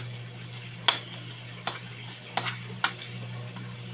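Garlic toasts in a hot pan for Filipino garlic fried rice, a steady sizzle broken by four or five sharp scrapes and clacks of stirring, close and clear with no talk.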